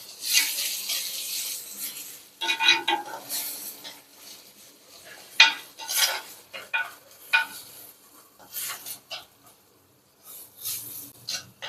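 Ginger, onion and tomato sautéing in a pan for Chettinad chicken curry: soft intermittent sizzling with spatula scrapes and stirring strokes in uneven bursts, close and moderately loud.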